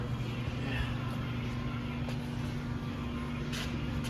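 A Mazda FC RX7 rotary engine runs on a cold start through a custom single-exit exhaust, a steady low droning hum held at raised revs, fairly faint, with people talking nearby.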